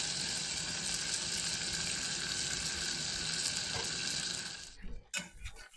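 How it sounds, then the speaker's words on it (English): Onion cooking in melted butter in a pan gives a dense, steady sizzle that runs close and even, then breaks off near the end into a few clattering knocks and handling noises. "Okay, we are cooking down our onion."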